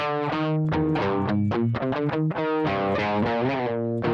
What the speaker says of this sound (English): we're going to start out by building kind of an amplifier type sound, a gain sound